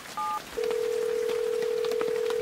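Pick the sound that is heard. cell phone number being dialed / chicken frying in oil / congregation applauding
cell phone number being dialed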